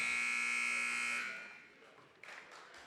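A loud, sustained buzzer sounds at the end of a period in a junior college basketball game, holding steady for over a second before cutting off, followed by crowd noise and an announcer talking.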